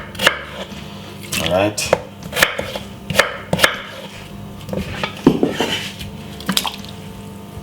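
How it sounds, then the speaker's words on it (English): Knife chopping potatoes into large chunks for a meatless vegetable soup, a series of sharp, irregular board hits up close, with a brief spoken word in between. "Just gonna cut your potato them really chunky."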